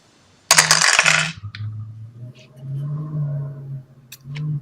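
Four six-sided dice are rolled and clatter sharply onto a hard surface, a loud burst of rattling impacts over about a second, then a voice speaks while a few faint clicks follow.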